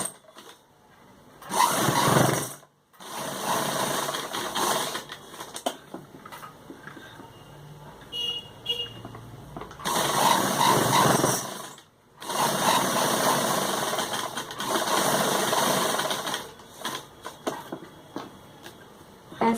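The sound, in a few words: sewing machine stitching fabric for a suit neck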